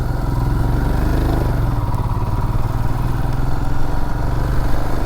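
A motorcycle engine labours in first gear up a steep mountain road in Kerala toward a sharp left bend, a loud, steady low drone with constant mechanical clatter from start to finish.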